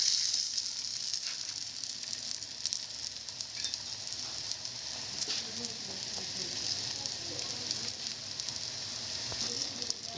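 Razza (rzeza) dough cooks in a heavy frying pan with a steady, dense sizzle that holds at an even level throughout, close and fairly loud, with no pauses or talking.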